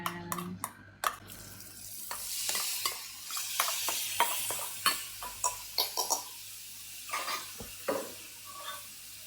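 Tofu scramble with turmeric sautéing in a pan over medium heat, a low sizzle beneath a series of sharp spatula scrapes and taps against the pan, close by, no talking.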